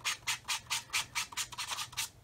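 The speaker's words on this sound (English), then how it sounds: "just get a fine sanding stick and I can just" A fine sanding stick rubs briskly over the painted top of a scale model, wearing through the paint so the white beneath shows. Around a dozen quick, even rasping strokes come close and steady, with no talking.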